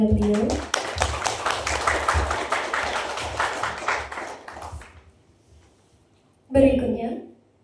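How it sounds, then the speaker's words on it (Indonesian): An audience claps after a speech at a formal gathering, a few seconds of fairly close applause that thins out and stops, followed by a brief silence and then a voice speaking. "Sekali lagi kita beri tepuk tangan kepada beliau"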